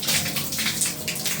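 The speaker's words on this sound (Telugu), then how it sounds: "కొద్దిగా ఉన్నాయి, సో ఇక్కడి నుంచి వచ్చేస్తాయి నీళ్ళు." Water drains out of a V-Guard water heater being repaired, giving a short, close, steady splashing rush with no pauses.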